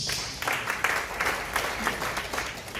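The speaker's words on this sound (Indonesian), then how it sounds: "Tepuk tangan bagi Yesus." Congregation clapping during a church sermon, a dense, steady wash of applause filling the whole moment with no voices over it.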